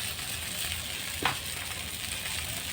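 Ambolya (Malvani rice dosa) batter sizzling in a hot pan, a soft, even, faint sizzle with one brief scrape partway through.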